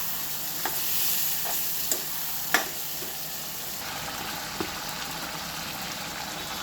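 Tomatoes frying in oil with salt, chilli and ginger-garlic paste for a chicken fry, a steady soft sizzle with a few sharp clinks of stirring and scraping in the pan, no voices.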